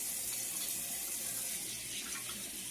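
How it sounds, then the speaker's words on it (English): Hands are washed under a running kitchen tap, a steady, soft hiss of flowing water splashing into the sink for a few seconds with no talking. "Wash my hands real good."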